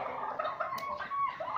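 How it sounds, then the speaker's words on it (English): Two turkeys fighting give a run of quiet, nasal clucks and squawks at close range, with no talk. "Separating two turkeys from fighting."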